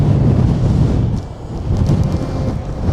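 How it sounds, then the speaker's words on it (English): Strong wind blowing across an exposed coastal spot in Orkney, buffeting the microphone with a loud, low, rumbling gusty roar that dips briefly and then surges again, with no voices. "It's a bit windy today, but not as bad as yesterday."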